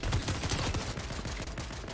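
Rapid gunfire from the Fortnite video game, a dense run of shots crackling almost continuously across two seconds at steady, fairly loud level.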